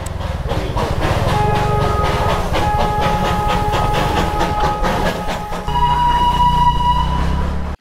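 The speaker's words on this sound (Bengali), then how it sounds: "সবেমাত্র দেখা হয়ে গেল আমাদের সবারই প্রিয় টয় ট্রেনের সাথে, একদম খুব কাছ থেকে।" Darjeeling toy train passing close by on its narrow-gauge line, a loud continuous rumble with rhythmic clatter of the cars, then a sustained whistle-like tonal hiss in the final seconds, with no talking.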